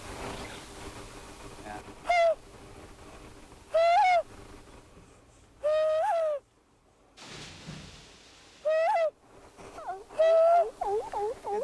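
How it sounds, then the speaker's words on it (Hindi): A curlew on the Irish coast gives a series of clear, rising whistled calls, about six of them spaced a second or two apart over a steady low background hum. "असल में वो वाकई में करलियू की आवाज है।"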